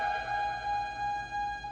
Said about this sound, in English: So the first sample that I have is obviously the siren.